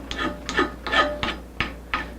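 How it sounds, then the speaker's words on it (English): A metal part for a mini CNC build being hand-filed in a shop, six even rasping strokes in a steady back-and-forth rhythm, close and alone. "This needs filing."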